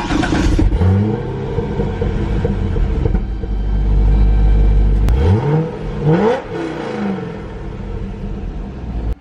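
Chevrolet C6 Corvette engine cranks and fires, then revs up and down in a few loud blips before settling into a steady idle.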